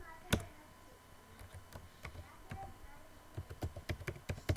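Keys clack on a computer keyboard in sparse, irregular taps at first, then quicken into a faster run of close, crisp keystrokes toward the end.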